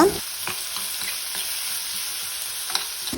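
Onion fries in coconut oil with ginger garlic paste in a pan, giving a constant close sizzle broken by light scrapes of stirring, with no talk.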